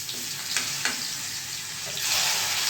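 Garlic and onion sizzle in hot oil with cumin, mustard seeds and asafoetida for a Kathiyawadi sev tameta shaak, a steady frying hiss with a couple of light stirring clicks and a brief louder swell near the end.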